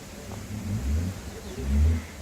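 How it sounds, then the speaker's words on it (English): A deep, steady rumbling roar of a waterfall in Jibhi, Himachal Pradesh, loud and continuous with low surges, no voices present. "As you can hear the noise of the waterfall"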